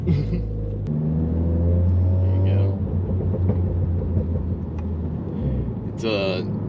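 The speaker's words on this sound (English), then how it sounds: "The exhaust is a much deeper tone now than it was with just the straight pipe." A VW MK7 GTI engine revs up through its exhaust with rear mufflers, a deep rumbling roar that rises and falls, with a brief higher whine near the end.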